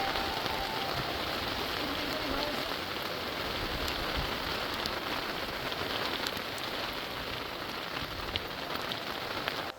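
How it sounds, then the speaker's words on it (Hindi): Heavy evening rain and storm pounding steadily on a tent at a Himalayan trek camp near Roopkund, a dense continuous hiss of drops on the surface without pause. "शाम को अचानक ही तूफान और बारिश होने लगी"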